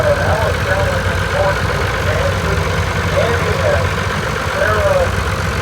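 An Allis-Chalmers tractor idles steadily at a tractor parade, its low engine rumble continuous and fairly loud throughout, with crowd noise and faint voices mixed underneath.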